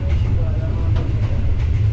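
A passenger train on the Ethiopia to Djibouti line rolls along with a steady, close low rumble and faint rattling that runs the whole time without a break.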